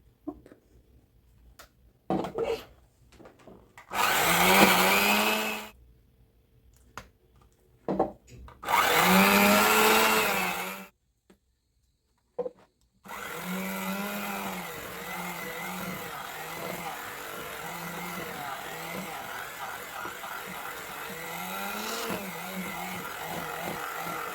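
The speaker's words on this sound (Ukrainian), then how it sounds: "І тепер додаємо по одному яйцю і збиваємо міксером, блендером." A handheld electric mixer beating eggs into eclair batter whirs in loud bursts that start and stop, then runs steadily and continuously, close by with no voices.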